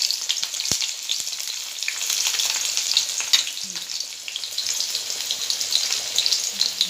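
Onions frying in mustard oil give off a continuous bright sizzle and spatter, close up, with occasional clicks and scrapes of stirring against the pan.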